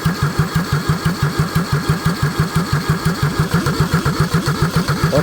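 A Kubota D640 diesel engine fitted with a D722 head cranks rapidly with a steady rhythmic chug, loud and close, the starter churning as the engine struggles to catch.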